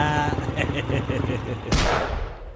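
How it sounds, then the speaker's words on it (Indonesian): A sharp burst of loud popping cracks from a motorbike exhaust, rapid like firecrackers, with a harsh engine rumble and a voice underneath. "Hanya motor Pak Sanggah yang knalpotnya merangkap sebagai petasan ini."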